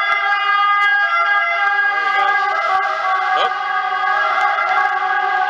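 An emergency vehicle siren wails along a street in northern Italy, rising and falling over a steady drone of road traffic, loud and continuous throughout.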